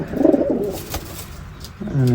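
Pigeons cooing close by, a few soft, throaty coos near the start, quieter bird sounds in the middle and another coo rising at the end, with faint background noise.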